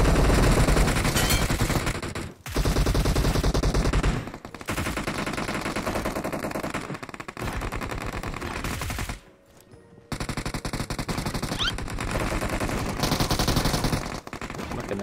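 Machine gun fire in a squad-based shooter video game: long, loud bursts of rapid automatic shots with brief pauses between them.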